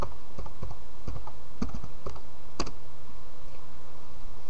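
Keys tap on a computer keyboard as a password is typed, a short uneven burst of about a dozen close clicks, quiet and alone.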